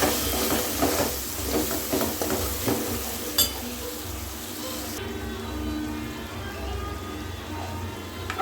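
Chicken frying in a pan with chili powder and salt, a steady dense sizzle with occasional stirring scrapes, close and continuous throughout.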